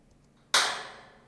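Impulse response of a homemade plate reverb built from IKEA parts, first version: one sharp loud crack followed by a bright, hissy tail that fades smoothly over about a second.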